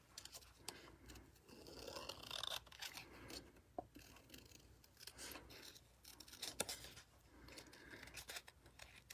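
Scissors snip through stamped paper while fussy cutting around an image, giving quiet, close, irregular crisp snips with soft rustling between them and no talking.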